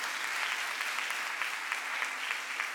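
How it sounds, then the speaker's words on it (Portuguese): A church congregation applauds during a sermon, steady massed clapping from a full room with slight swells, heard from a distance without voices standing out. "Pode aplaudir a Jesus."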